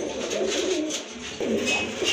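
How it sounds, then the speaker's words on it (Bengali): Soft, throaty coos from three pigeons, including red check birds, repeat several times up close, a low rolling murmur with faint background noise. "তিনটা কবুতর রয়েছে এইখানে"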